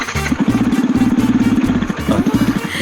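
Motorcycle engine running close and loud while a beginner rider works the clutch and first gear, a steady rapid thumping idle with slight rises in revs.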